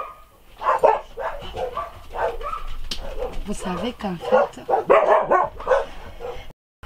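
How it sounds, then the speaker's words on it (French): Several dogs bark repeatedly at home, loud and close, mixed with a busy stretch of voices and noise that runs through the whole span. "j'étais obligée de couper parce que les chiens aboyaient"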